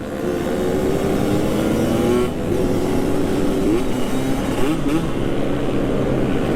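A Yamaha RX King motorcycle revs hard at full throttle at a street bike meetup in Makassar, its loud, steady engine roar close by and sustained, with rising and falling pitch sweeps as the throttle is blipped.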